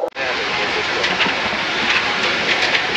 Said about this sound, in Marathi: आता बोईसर स्टेशनमध्ये समोरून गेलं म्हणजे ट्रेन एवढी फास्ट आहे